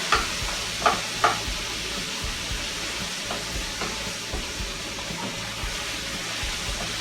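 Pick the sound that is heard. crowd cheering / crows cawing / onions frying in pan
onions frying in pan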